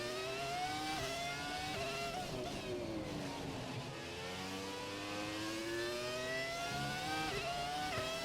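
A Formula 1 race car engine in the F1 2017 racing game screams at high revs, rising through gears with sharp upshift drops and a steady, loud whine throughout.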